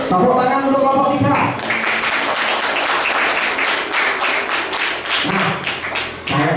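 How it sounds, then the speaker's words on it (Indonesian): A classroom audience of teachers applauds a student group, a dense burst of many clapping hands that runs for several seconds, with voices underneath and around it. "Tepuk tangan untuk kelompok 3."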